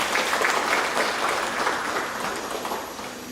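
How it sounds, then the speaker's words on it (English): Guests at a 70th birthday celebration giving a steady round of applause, loud at first and gradually tapering off, with no talk over it. "Let's give them a round of applause."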